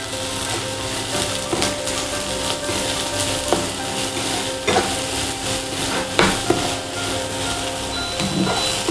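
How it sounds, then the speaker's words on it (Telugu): Chopped onions for chilli chicken fry in a pan over a medium flame, giving a steady, even sizzle with occasional clicks and scrapes of stirring. "మీడియం ఫ్లేమ్లో పెట్టుకొని కొద్దిగా ఫ్రై అవ్వనివ్వండి."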